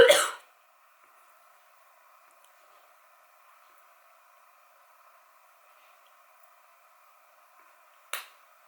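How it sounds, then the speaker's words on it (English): Two short, close coughs or throat clears, one at the start and one near the end, are separated by a long quiet stretch with a faint steady hum. The sounds come from someone folding laundry indoors. "something's making me cough today"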